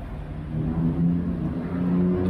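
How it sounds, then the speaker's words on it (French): A steady low rumble of nearby road traffic on a Bangkok street, with engines droning and cars passing continuously. "Je sais pas si vous m'entendez avec le bruit des voitures"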